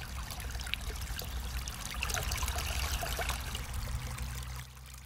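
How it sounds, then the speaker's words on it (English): Water moving through a woodland landscape, a steady trickling flow with a low rumble, continuous and fairly close. "You could hear the water kind of moving through the landscape."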